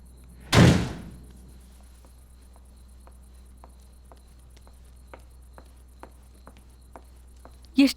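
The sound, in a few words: door slammed shut loudly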